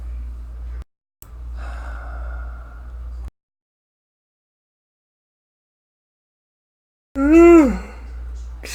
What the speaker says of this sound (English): Sorry for the yawning.